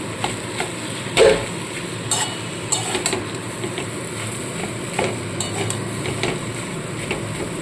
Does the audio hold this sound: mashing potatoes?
yes